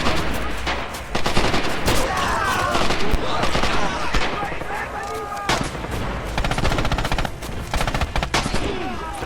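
Gunfire from a semi-automatic rifle in the video game Red Orchestra 2, heard as repeated loud, close shots amid dense battle noise with other weapons firing nearby, while someone talks over it.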